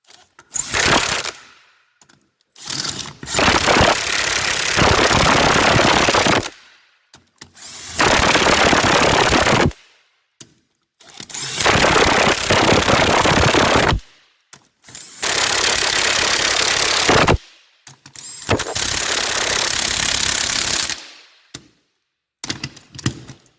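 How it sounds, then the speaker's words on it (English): An impact wrench hammers on the lug nuts of a military LMTV or 5-ton truck combat wheel with a 1.5-inch socket. Loud, rattling bursts a few seconds long start and stop repeatedly, separated by brief silences. "once you have the lug nuts all started, put the impact on it, run in reverse"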